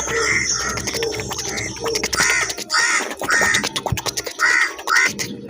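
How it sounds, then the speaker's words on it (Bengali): Repeated harsh crow caws come in bursts over a busy, noisy background, loud and fairly close, with calls overlapping across the stretch. "দেখো কাকের ডাক।"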